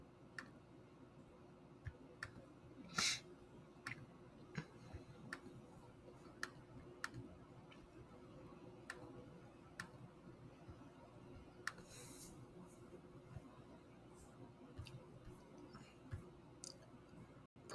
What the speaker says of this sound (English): So I'm going to click no.